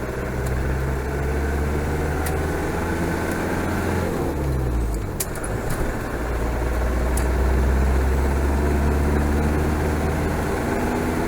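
A Land Rover engine idles steadily up close, a low constant hum with a brief dip midway and a few faint clicks, without chirping or squeaking.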